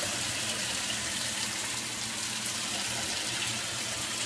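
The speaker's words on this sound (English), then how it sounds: "I'm gonna wash it with gel in my goddamn hands." Tap water runs steadily into a sink for hand washing, a continuous close hiss and splash without pause or talking.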